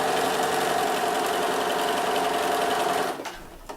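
Sewing machine stitching quilt fabric, a loud continuous whirring hum that runs steadily for about three seconds before winding down to a stop.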